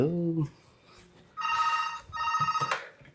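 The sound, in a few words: phone ringing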